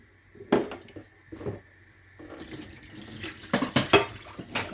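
Water is poured off a pot while Moroccan sweet-and-savory plums are cooking, arriving as a few short splashes and then a longer running pour with clinks of cookware, close by and fairly quiet.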